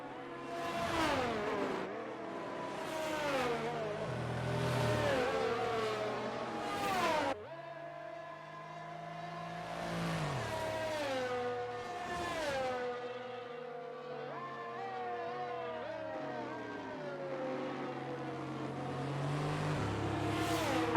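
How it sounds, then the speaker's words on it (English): Race cars bunched up behind a safety car at Aqua Minerale in an F1 racing video game at the Emilia Romagna GP, several engines droning and revving with shifting pitch, steady and fairly loud throughout. "the safety car is currently coming through Aqua Minerale and drivers are catching up here"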